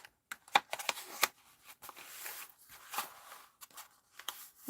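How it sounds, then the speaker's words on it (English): A paper greeting card is handled and folded by hand, giving a run of soft crinkles, taps and rustles close by at low volume, with no speech. "And then you fold that to that point there."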